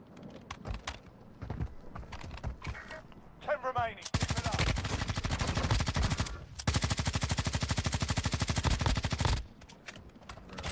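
Rapid automatic gunfire in the mobile shooter Warzone Mobile in Verdansk, two long dense bursts of fast, loud shots after scattered single shots and brief voice chatter.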